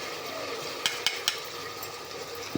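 A thick, spicy chilli chicken gravy bubbles and simmers in a pan, with a few sharp pops and taps breaking the steady hiss.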